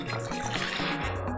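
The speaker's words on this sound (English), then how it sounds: "So I'll be adding about 2 cups of water to the pot." Water poured into a cooking pot while making abula, a continuous splashing trickle close to the microphone, with a faint low hum underneath and no talking.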